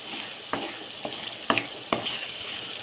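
Turmeric is stirred into a sizzling pan of fish curry, close steady frying with four distinct scrapes of a spoon against the pan.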